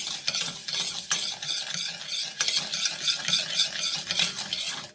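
Sugar and water stirred in a pan for homemade golden syrup, a spoon scraping in quick rhythmic strokes over a light sizzle, close and steady for several seconds without voices.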